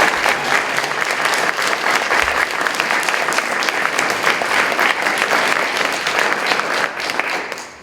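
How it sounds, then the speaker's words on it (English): A meet-the-candidates night audience applauds the school board of education candidates, a full, steady round of clapping from many hands that tapers off in the last second. "I would need a round of applause for these candidates"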